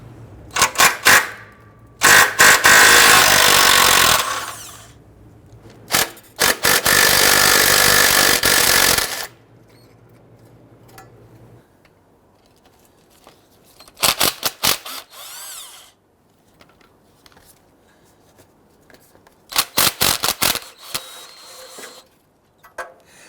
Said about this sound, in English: We're going to use a 14mm socket to go ahead, loosen and remove these two nuts